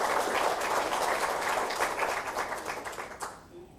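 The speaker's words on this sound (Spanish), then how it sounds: "Claudia, sí, un aplauso, por favor." Audience applause at a Chilean labor union seminar: dense, steady clapping from a crowd, sustained for several seconds before thinning and fading out toward the end.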